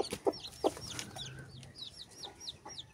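Small native Joloano chickens cluck softly nearby, a few sharp low clucks followed by a run of faint high chirping calls in a quiet yard.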